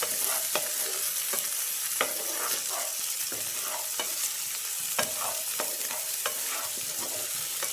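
Small onions fry in a pan while a spoon stirs them steadily, giving a continuous close sizzle broken by repeated scraping clicks of the spoon against the pan, and no one speaks.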